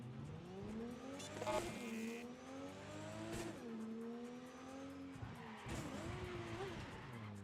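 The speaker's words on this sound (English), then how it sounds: "This car sounds good." A car in Cyberpunk 2077 Phantom Liberty drives at speed, its engine note rising and falling through revs, with tire squeals and skids breaking in several times over the steady motor drone.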